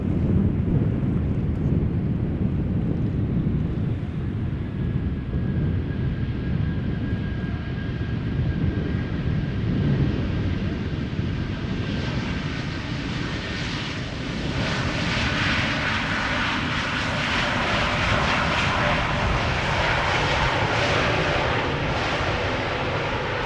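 An Airbus A380 arriving at Amsterdam Schiphol Airport, a steady heavy aircraft engine roar that grows brighter and closer in the second half, with some wind noise.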